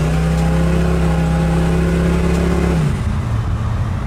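A supercharged 1971 Oldsmobile 442 pulling hard, a loud, close, steady engine roar holding a strong low tone for nearly three seconds before abruptly cutting back to a lower, rougher idle.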